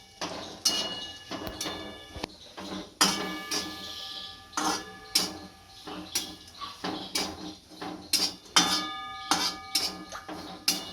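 Grated coconut roasting in a pan is stirred with a utensil, making a run of uneven metallic scrapes and knocks against the pan, close and fairly loud.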